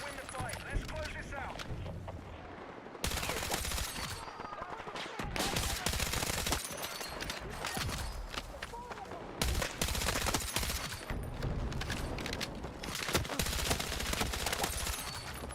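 Dense, loud gunfire from Battlefield 6 on the Cairo Bazaar map, with rapid bursts and shots running continuously through the scene as a player talks over it.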